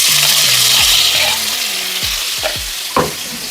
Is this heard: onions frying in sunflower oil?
yes